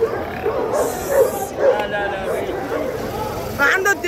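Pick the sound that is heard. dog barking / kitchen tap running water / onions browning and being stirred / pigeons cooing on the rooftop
dog barking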